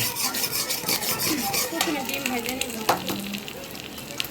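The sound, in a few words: eggs frying in hot oil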